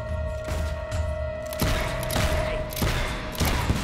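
Shots in the video game Fable 3 land as a handful of dull, spaced blasts over a steady game background tone, fairly loud and evenly paced, with no one talking.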